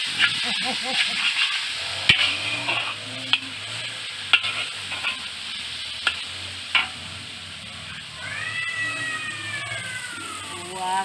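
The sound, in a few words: palm sugar simmering on gas stove for pad thai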